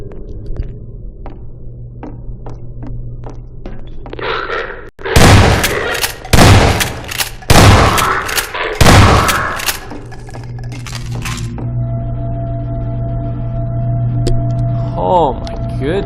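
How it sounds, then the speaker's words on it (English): A shotgun fires in Half-Life 2 as four loud, evenly spaced blasts about a second apart, each with a heavy report, followed by quieter game ambience and a voice talking. "I'm gonna have to go with the shotgun in this situation"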